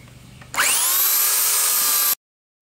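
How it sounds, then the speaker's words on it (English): A belt sander sanding wood starts abruptly, whines steadily at high pitch for about a second and a half, then cuts off into silence. "I'm going to take my belt sander over it and smooth it out"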